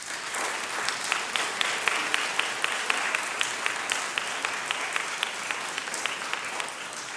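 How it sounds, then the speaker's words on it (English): Sustained applause from an audience at a mayor's press conference for a union graduation, dense steady clapping with sharp individual claps standing out, continuous throughout. "So they need a serious round of applause."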